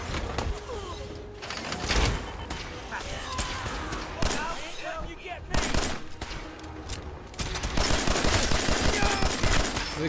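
Gunners open fire in Fallout 4, bursts of rapid automatic gunfire and scattered single shots crackling in clusters over about ten seconds, some near and loud, others farther off, with a voice talking in places.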